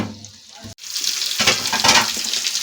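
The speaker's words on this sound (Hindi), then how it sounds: "तो ये सारी हम हल्की हल्की से फ्राई करेंगे।" Onions, capsicums and chilies fry gently in a little oil, a near, crackling sizzle that swells after a short pause and carries on with stirring scrapes.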